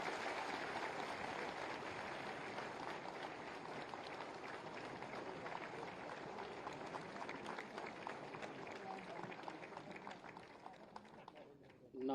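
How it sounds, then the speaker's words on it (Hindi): An audience at a government appointment-letter ceremony applauds, a dense sustained patter of many hands clapping that fades toward the end. "आपकी जोरदार तालियों के प्रणाम के साथ"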